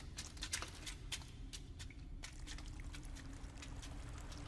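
Water faintly pouring and trickling in an animated fantasy episode, a quiet, steady wash dotted with small drips and splashes, with no voices.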